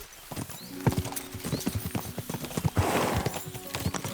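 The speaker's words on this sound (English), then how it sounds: "We should spur the horses on." Horses gallop in Kingdom Come: Deliverance II, their hooves clip-clopping in a quick, uneven rhythm, with a faint whinny in the mix.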